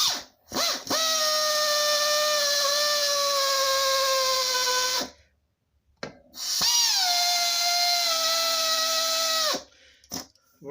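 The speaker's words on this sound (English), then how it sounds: "So I'm going to use a straight drill" A straight electric drill whines at a steady high pitch for several seconds, stops briefly, then runs again for another long stretch before cutting off.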